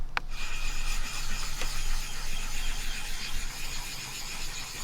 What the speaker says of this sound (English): the way you use this is to create a slurry on top of the stone, and it's the slurry which is abrasive and actually polishes the blade